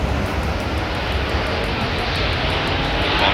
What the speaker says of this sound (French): Là, il y a les avions qui décollent.